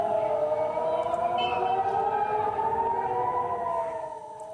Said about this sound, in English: Sirens have been sounding in Israel as a result of Iranian attacks.